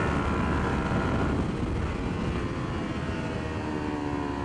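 Kawasaki Ninja 400 motorcycles racing in a practice session: a loud, continuous engine and wind roar with a steady droning tone, close and unbroken.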